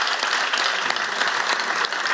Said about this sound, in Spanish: yo les pido un aplauso para nuestro conferenciante.